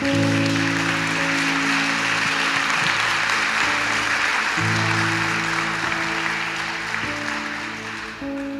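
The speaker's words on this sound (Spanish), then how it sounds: "Le damos un aplauso al Señor por eso." A church congregation applauds during a Spanish-language sermon, a broad steady wash of clapping over sustained music that continues throughout, with no clear voices.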